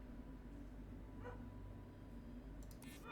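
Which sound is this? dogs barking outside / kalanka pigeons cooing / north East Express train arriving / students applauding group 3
dogs barking outside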